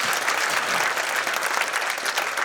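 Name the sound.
live podcast audience applauding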